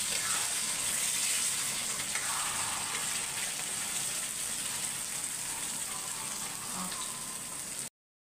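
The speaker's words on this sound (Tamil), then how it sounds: "இப்போ வெங்காயம், தக்காளி, கருவேப்பிலை வதக்கி வச்சதை நல்லா எண்ணெயில் சேர்த்துடலாம்." Onion, tomato and curry leaves sautéing in oil for a mutton curry give a steady, loud hiss that runs unbroken to the end.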